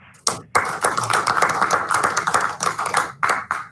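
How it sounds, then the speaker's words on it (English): Scattered hand claps from a small group at a Haddonfield school board meeting held over a call, uneven and patchy rather than a full ovation, with brief gaps and a few sharp taps. "maybe a quick round of applause for Sierra."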